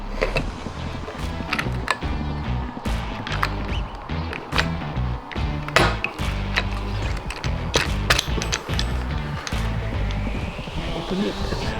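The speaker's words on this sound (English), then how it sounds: "Now we'll rivet them down." Snorkel parts being riveted onto a 2025 Chevy Colorado ZR2 Bison, with a close, steady run of sharp mechanical clicks and ratcheting snaps from the rivet tool, repeating quickly over a low continuous hum.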